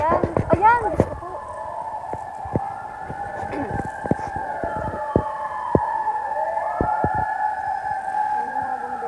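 Fire truck sirens wail at a large fire in Pandacan, Manila, their rising and falling tones sweeping across the whole clip over sharp clacks and background voices.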